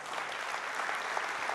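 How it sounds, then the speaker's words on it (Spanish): Congregation at a Spanish-language church service applauding, a steady dense wash of many hands clapping at once, evenly sustained and moderately loud throughout with no voices standing out. "Dele un aplauso a Dios"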